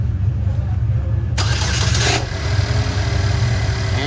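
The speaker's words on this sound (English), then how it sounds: "So now Connor's gonna go inside the car and start it." A car engine cranks and catches in a loud burst lasting under a second, then settles into a steady idle, heard while the car's MAF and MAP sensors are being tested.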